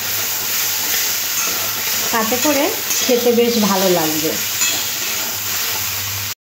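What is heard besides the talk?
taro stolons (kochur loti) frying in a pan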